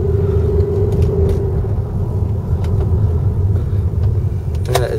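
A 2004 Saab 9-5 Aero sedan rolls around a residential block, giving a steady, low engine and road rumble close by with no talking.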